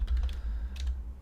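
Quick bursts of keystrokes on a computer keyboard while typing code, a short run of close, crisp clicks over a low background hum.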